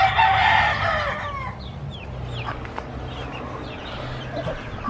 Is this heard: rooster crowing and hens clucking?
yes